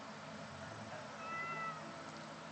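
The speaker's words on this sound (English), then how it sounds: "There was a kitty." A cat meows in the Yangtze video game, one soft drawn-out meow near the middle over a flat steady ambient hiss, with no voices.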